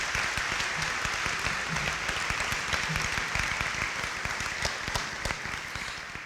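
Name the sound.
audience applause at college convocation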